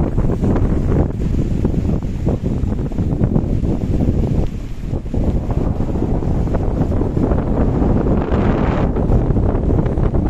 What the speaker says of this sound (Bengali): অসাধারণ হাওয়া দিচ্ছে, জাস্ট দারুণ লাগছে।